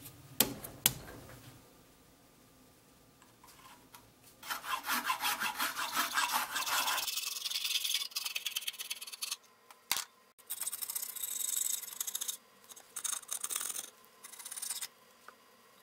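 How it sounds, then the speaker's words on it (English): Dry, raspy sanding strokes rub against the wooden end grain of a rolling-stick toy in uneven bursts, with short pauses between passes and a few light knocks; no voices. "Sanding end grain like this can have a right and a wrong way."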